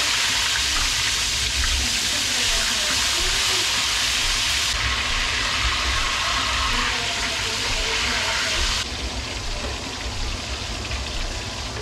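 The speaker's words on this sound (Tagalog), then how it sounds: "Ayan o, nagpiprito ako." Steady, loud sizzling and crackling of tuna frying in hot oil in a pan, a dense broadband hiss that continues throughout with no talking.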